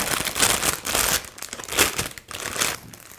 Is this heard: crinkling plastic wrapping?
yes